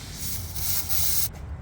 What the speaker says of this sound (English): WD-40.